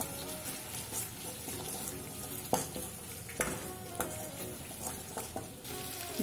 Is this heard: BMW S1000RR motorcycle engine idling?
no